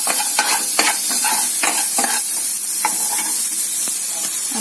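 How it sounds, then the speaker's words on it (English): Onion frying in a pan with a steady, loud sizzle and crackle, broken by several stirring scrapes and clinks close by, with no talking. "Now in the same pan, add onion"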